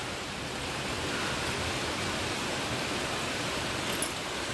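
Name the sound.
heavy rain outside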